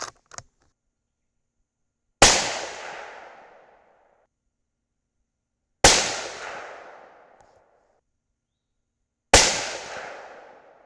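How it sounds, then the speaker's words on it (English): Rifle fired at a range target during a scope tracking test: three sharp, loud shots spaced several seconds apart, each with a decaying echo tail, near silence between. "We're going to fire them at the center."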